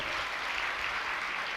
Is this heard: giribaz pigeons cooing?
no